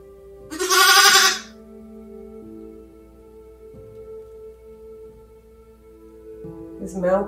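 A newborn lamb gives a loud, close bleat early on, then a second shorter bleat at the very end, with quiet farm ambience between during lambing season.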